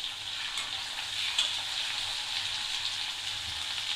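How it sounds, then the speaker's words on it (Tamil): Curry leaves, green chillies and onion sautéing in a pan for onion fried rice, a quiet even frying hiss with faint crackles and a light tap or two, no voices. "எல்லாத்தையும் நல்லா வதக்கிக்கணும்"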